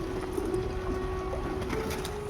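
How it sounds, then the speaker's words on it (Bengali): Pigeons gather on a rooftop and coo softly in a low, droning call that holds steady over a constant background hum. "আজকে অনেক পায়রা এসছে।"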